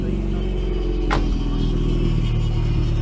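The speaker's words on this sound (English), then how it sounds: "Rorty Vauxhall Astra here." A rorty Vauxhall Astra Belmont rumbles at a classic car show at Goodwood Motor Circuit, its engine drone steady and close throughout, with a brief higher sweep as it revs.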